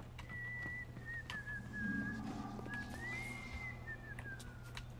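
In the video game BioShock, a character whistles a clear, wavering melody in several sustained phrases, moderately loud over a low ambient hum.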